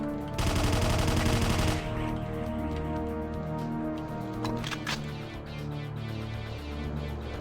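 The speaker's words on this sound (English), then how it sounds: "There is one lone machine gunner." Machine gun fire in the video game Doom opens with a loud, rapid burst lasting over a second. A quieter stretch follows, with a few sharp hits and a lingering game ambience.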